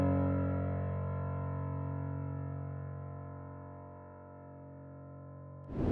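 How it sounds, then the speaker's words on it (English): Dark piano chords from a Kontakt Noir preset, built on a root and fifth across several octaves, ring out as one long sustained chord that slowly decays, soft and alone, with a new attack just at the end. "After that, I just added a dark piano,"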